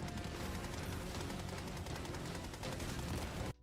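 Sustained automatic fire from the MA5C assault rifle in the video game Helldivers 2, a dense, continuous rattle of rapid shots that cuts off abruptly at the end.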